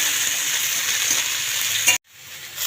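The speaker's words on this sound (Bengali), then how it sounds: "গাজর, সিম, বেগুন আর সঙ্গে এই যে কাঁচা লঙ্কা দিয়ে নাড়িয়ে নেব" Carrot, flat beans, eggplant and green chilli stirred in a hot pan give a loud, steady close sizzle that stops abruptly near the end and then resumes more softly.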